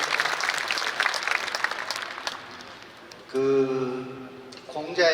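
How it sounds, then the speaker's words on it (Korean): Scattered audience applause at a political talk show fades after a couple of seconds, followed by someone speaking clearly into a microphone. "잘 보셨으면 박수 한번 부탁드리겠습니다"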